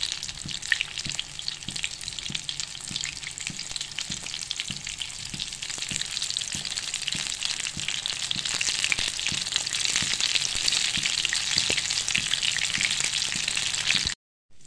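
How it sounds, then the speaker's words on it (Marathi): Battered paneer pakoras deep-fry in hot oil, a dense continuous crackling sizzle that grows slightly louder before cutting off abruptly near the end. "हे बघा, आता हे अशा पद्धतीने मी पकोडे तळून घेते।"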